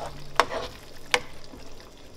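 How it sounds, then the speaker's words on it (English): Bolognese sauce being stirred in a pan on the stove, with two sharp utensil scrapes against the pan over a soft, steady background sizzle, close and alone. "I'll give it a stir, make sure it's not sticking"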